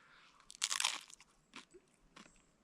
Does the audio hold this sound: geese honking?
no